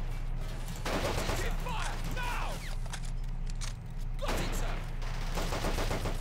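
Bren machine gun fire in the Men of War Assault Squad video game crackles as dense, overlapping battle gunfire beneath steady background rumble, with bursts of shots spread across the clip and a brief lull near the middle.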